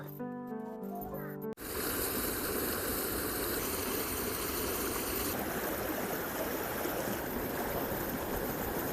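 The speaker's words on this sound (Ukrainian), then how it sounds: "Такий водоспадик у нас тут є." A small waterfall rushes in a steady, continuous wash of water after a brief, different sound at the start, staying fairly loud throughout with no talking.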